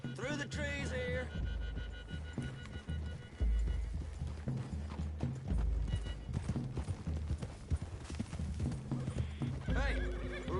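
Horses trot through trees in the Red Dead Redemption 2 video game, steady clip-clop hoofbeats with a whinny at the start, over a dense rumbling music and ambience bed.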